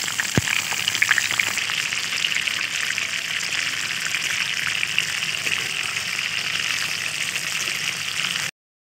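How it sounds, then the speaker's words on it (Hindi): Medium-sized eggplant frying in oil in a pan for baingan masala, a steady close sizzle and crackle running throughout with a sharp pop near the start and no talking. "तो बैंगन को हमने घुमा घुमा कर चारों तरफ अच्छे से फ्राई कर लिया है।"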